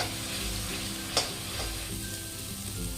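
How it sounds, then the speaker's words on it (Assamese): Masala frying in a pan for a prawn curry with poppy seeds, an even low crackling sizzle with a single brief clink from a utensil, close and continuous, with no voices. "এতিয়া এইখিনি মই খুব ধুনীয়াকৈ ভাজিব লাগিব"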